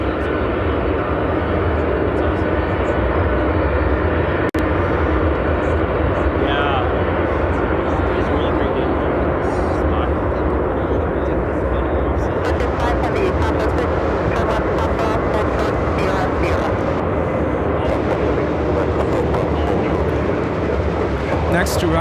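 A Boeing 777-300ER airliner at Chicago O'Hare after a ten-hour flight gives a constant loud jet roar, with sharp clicks and crackle later on.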